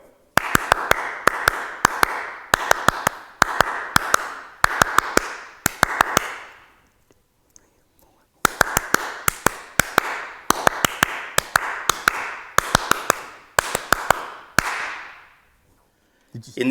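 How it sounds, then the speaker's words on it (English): A live audience claps along in a steady rhythm of sharp, even hand claps, two runs of about six seconds each separated by a brief pause, loud and close with no talking. "So, hands up, nice and ready, and clap along with me."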